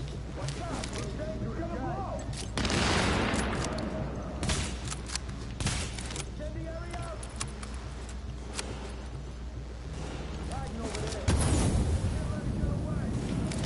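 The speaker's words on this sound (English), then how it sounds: "Have a grenade." Grenade blasts and gunfire in the shooter game Tom Clancy's The Division. Two heavy, rumbling explosions, one early and one late, stand out over a steady bed of gunfire and game noise, with voices talking throughout.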